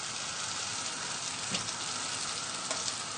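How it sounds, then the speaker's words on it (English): Egg-dipped panettone fries in melted butter in a pan, giving a steady, even sizzle that stays fairly quiet and continuous throughout. "dip the panettone into the egg mixture on both sides, just twice, and then straight in the pan"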